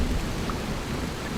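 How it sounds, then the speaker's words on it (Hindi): Heavy rain pours in a storm, a loud, thick wash of drops with a low rumble underneath, unbroken and without speech. "सुबह होते होते बारिश ने भयानक रूप ले लिया।"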